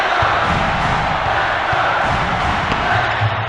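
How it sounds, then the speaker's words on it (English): Loud, steady arena crowd roar from the NCAA March Madness 2001 basketball video game on PS1, a dense sustained cheer with no voices standing out. "With the crowd making this much noise, the offense was confused and tossed it up."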